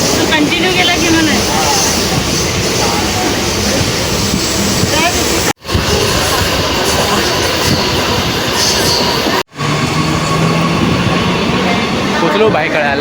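A slow local train runs through Mumbai with a loud, steady rumble and rattle that fills the whole stretch, broken by two very brief cuts.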